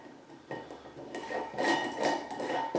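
Airlock and lid being fitted onto a wine fermentation jar, faint clinks and hard taps of plastic and glass, a few separate knocks followed by a busier cluster of rattling contacts, close and quiet with no talking.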